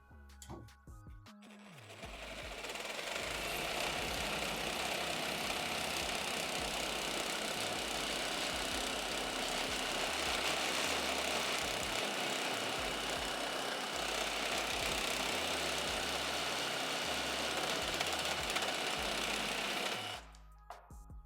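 A Milwaukee M18 FSZ cordless reciprocating saw cuts through an 18 mm thick metal piece in one long continuous run, with a steady loud buzzing rasp that starts and stops abruptly and no talking.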